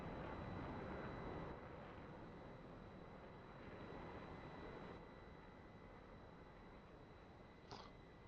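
A MiG-15bis jet engine runs steadily at fairly high RPM in a flight simulator, giving a constant broadband roar with a thin whine on top and a brief small chirp near the end, with no speech.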